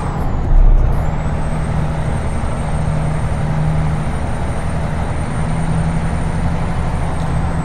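A Freightliner FLB truck with a 10-speed gearbox drones steadily from inside the cab, its engine note rising slightly after a brief air-release hiss near the start as it shifts into sixth gear.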